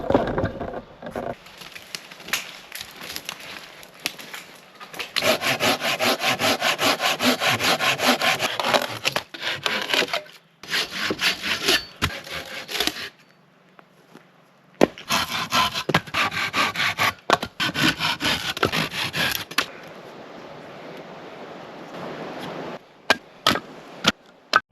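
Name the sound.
sawing firewood in remote woods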